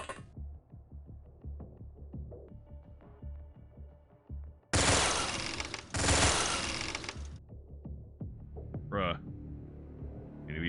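Sustained bursts of gunfire in the X-COM Files game, two loud dense volleys back to back in the middle, preceded by low throbbing hum and scattered quieter shots, with softer tones trailing after.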